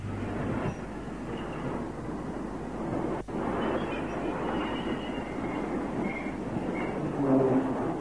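An Ivatt Class 2 steam locomotive from 1950s British railways runs past with a continuous rumbling, rolling noise at moderate distance, with no voices over it.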